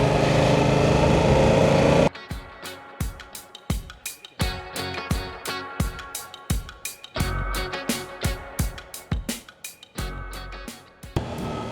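A Yamaha R7 sport motorcycle is ridden with its engine note rising and falling in repeated surges of throttle and gear changes, heard close amid wind noise.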